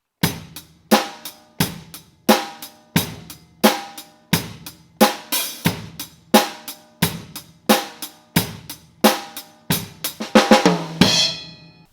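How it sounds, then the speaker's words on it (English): A drum set plays a steady rock beat, with crisp snare hits and kick drum in a regular pulse. It builds to a quick fill and ends on a ringing cymbal crash, close and with no talking. "now I'll show you what that sounds like on the drum set"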